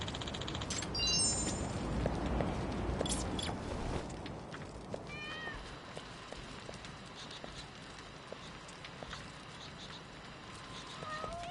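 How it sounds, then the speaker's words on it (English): Cats meowing in the video game Lost Judgment, short high mewing calls scattered among busy game ambience and movement sounds, faint and intermittent rather than close. "I can hear cats."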